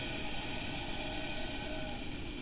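A train running in the video game Railway Empire, a steady, dense rumbling roar that holds at an even level throughout, close and unbroken, with no talking.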